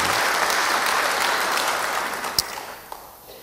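Church congregation applauding during a sermon, a steady wash of clapping that gradually thins and fades out over a few seconds.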